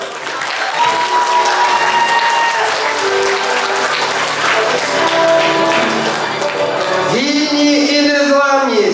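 Audience applause for a 7th-grade school team receiving an award at a school haka competition, steady loud clapping that fades out near the end as a voice begins speaking.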